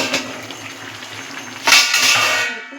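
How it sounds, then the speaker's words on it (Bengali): A cooking pot's lid is lifted off after simmering lentil fritters (dal bora) in pachan tarkari curry, giving a short metallic clatter and a burst of bubbling, steaming broth that fades away, with no talking. "এবার আমি 1-2 মিনিট পর ঢাকনাটা খুলে নেব"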